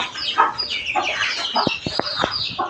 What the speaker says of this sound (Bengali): এটা হচ্ছে আমার দেশি মুরগির বাচ্চাগুলো আলহামদুলিল্লাহ সবাই পানি খাচ্ছে